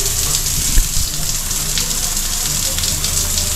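Running water at a beach resort in Cavite gushes steadily and loudly, making a dense, even hiss with no breaks.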